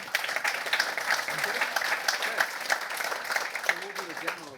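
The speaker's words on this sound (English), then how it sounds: "A round of applause," An audience at a TV technology summit breaks into steady applause, dense clapping from a large crowd filling the hall throughout, with a voice briefly heard near the end.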